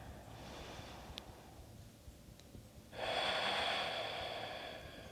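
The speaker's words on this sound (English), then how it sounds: "take 3 more deep breaths" Slow, deep breaths during a vinyasa flow yoga class, a soft airy inhale followed after a pause by a louder, longer exhale, close and alone with no talking.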